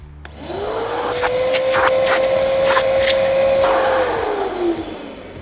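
A Karcher WD3 Premium wet and dry vacuum cleaner starts up and runs steadily with a loud, close, even whine, winding down near the end; no one speaks.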